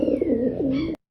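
A neck creaking with a pigeon-like coo during a home stretching routine for hamstring pain, a single close, wavering tonal coo about a second long that ends abruptly.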